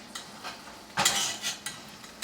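A metal utensil scrapes cooking eggs off the bottom of a cast iron pan, a few soft scrapes and taps with one louder scrape in the middle, close and quiet without any talking.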